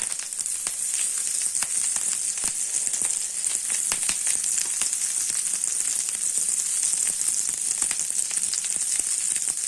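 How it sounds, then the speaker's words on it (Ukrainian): Butter melts in a heated frying pan with a bright, steady sizzle peppered by constant small crackling pops, close and uninterrupted for about ten seconds. "На розігріту пательню додаємо масло."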